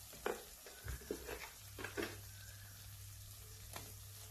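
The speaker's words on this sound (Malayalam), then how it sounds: "അത് ചേർത്ത് നന്നായിട്ട് വരട്ടിയെടുക്കണം." Spice powders roast and get stirred in a pan for a dried fish curry, a faint low sizzle under soft scraping strokes of the spoon against the pan.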